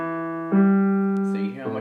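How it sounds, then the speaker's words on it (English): Low piano notes in the bass clef ring out as a steady sustained tone, struck once more loudly halfway through and then shifting to another note, played alone with no talking. "I'm playing these notes in the bass clef"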